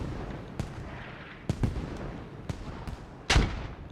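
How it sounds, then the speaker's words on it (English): Small arms fire and mortar impacts hit a T-62 tank in a video game, with scattered sharp cracks and thumps at irregular intervals and one heavier blast near the end, all fairly distant with no talk. "small arms fire, just deflecting harmlessly off that turret"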